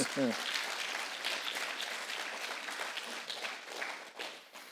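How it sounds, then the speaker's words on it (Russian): Church audience applauding through a sermon, a steady wash of many hands clapping at moderate distance, with voices mixed in beneath it. "Подарите ему аплодисменты"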